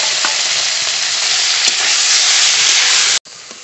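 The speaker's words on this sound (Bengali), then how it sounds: "বাকি মাছও ভেজে নেব" Bata fish pieces sizzle in hot oil during a light fry, a loud, dense, continuous crackle close by that stops abruptly near the end before resuming briefly. No one speaks.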